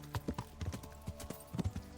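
Horse hooves in the video game Kingdom Come Deliverance, a steady, close clip-clop rhythm of footfalls at a brisk pace, heard alone.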